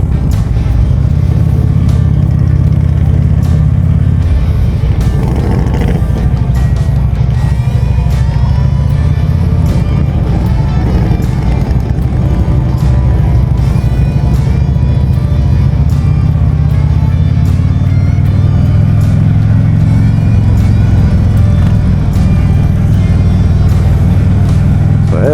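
A vehicle pulls out at a Harley-Davidson motorcycle rally in Waterloo, Alabama, with a loud, continuous engine rumble and road noise close by throughout, and no talking.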